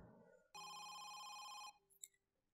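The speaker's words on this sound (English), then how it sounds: "I got a phone call." A telephone rings in the video game Home Sweet Home with one sustained electronic bell tone lasting about a second, clear and alone, followed by a few faint clicks.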